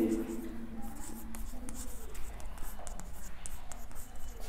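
Hand-written numbers scratch onto a board or page during a maths lesson, a steady run of soft scraping strokes close by, with faint low hum and traces of a voice underneath.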